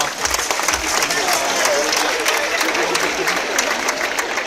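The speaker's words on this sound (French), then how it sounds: "vous méritez un tonnerre d'applaudissements" A crowd at a sea lion show at Marineland Antibes claps steadily and loudly for several seconds, a dense, continuous patter of many hands with no break.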